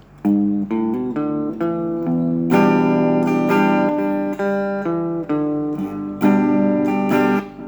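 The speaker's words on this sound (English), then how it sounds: "Then we're going to switch to an electric guitar," Clean electric guitar picks out a melody, ringing notes and strummed chords, steady and upfront with sustained tones.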